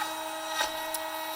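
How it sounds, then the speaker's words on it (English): A CNC mill machining a sanding block gives off a faint, steady whirring hum with a soft scraping tick, alone, in a short quiet stretch. "It's been milling for about 30 minutes just to clean this out."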